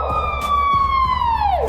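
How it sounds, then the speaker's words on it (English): A white bellbird gives a single loud, siren-like tonal call, a pure whistle with harmonic overtones that holds steady and then slides downward at the end, close and clear. "When you hear the sound of these birds, you will either laugh or run away in fear."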